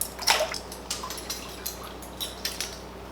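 A fishing lure's flapping tail slaps against a small bolt on its rear in a water test tank, giving sharp, light clicks and ticks with drips, loudest at first, then repeating faintly at uneven intervals.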